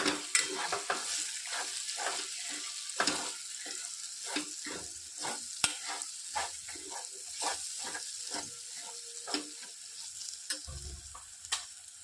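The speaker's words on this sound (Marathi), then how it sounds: "त्यात आपण थोडासा गरम मसाला टाकूया आणि मिक्स करून घेऊ" Garam masala, chilli powder, coriander powder and turmeric being stirred into a frying pan for a sprouted moth bean curry, with repeated scraping strokes over a soft, steady sizzle, close and fairly quiet, no talking.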